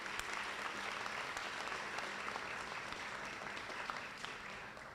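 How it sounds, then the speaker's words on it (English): Audience at a police swearing-in and promotion ceremony applauding steadily, a dense, even wash of clapping from many hands that holds for the whole stretch and fades slightly at the end. "We're going to give them another round of applause."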